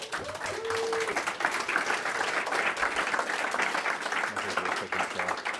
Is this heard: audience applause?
yes